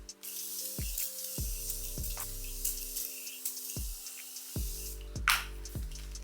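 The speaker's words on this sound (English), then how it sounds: "Now I'm gonna go in one more time with the Morphe Continuous Setting Mist." Morphe Continuous Setting Mist spritzed onto a face during makeup, a quick airy spray burst heard near the end over soft plucked background music.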